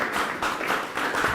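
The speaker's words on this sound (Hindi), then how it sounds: "मैं चाहूँगा जोरदार तालियां इनके लिए आप बजा दीजिए।" Audience at a farmers' question forum clapping, a short, fairly faint burst of dense applause.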